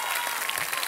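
A studio audience at a singing competition show claps steadily and densely throughout, loud and continuous with no voices standing out.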